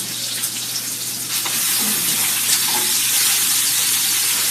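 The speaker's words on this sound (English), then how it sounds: "if I could just like have bacon going in a pan all day on my stove" Bacon fries in a pan on a home stove for a bacon jalapeño hash, giving a loud, steady, close sizzle and crackle that stays constant throughout, with no talking.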